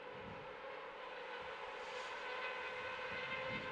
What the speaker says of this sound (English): Beautiful shot there by cameraman of the AirAsia plane taking off.